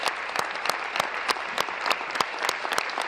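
Dense, steady applause fills the Ontario legislature during a 2019 budget presentation, with many hands clapping together and a few sharper claps standing out, and no talk over it.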